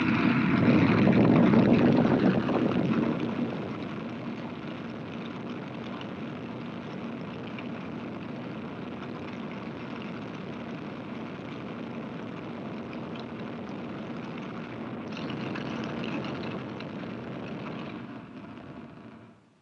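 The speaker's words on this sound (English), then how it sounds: "The event was climaxed by a full-duration firing." Rocketdyne F-1 rocket engine roaring through a full-duration test firing at the Edwards test stands, a loud, continuous broadband rumble that surges at the start and holds steady before cutting off at the end.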